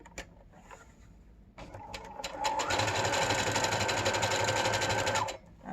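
An electric sewing machine runs a straight stitch on a surgical gown, starting with a slow hum, then whirring at a steady fast rapid-fire rhythm for about three seconds before stopping, close and clear, with some handling clicks before.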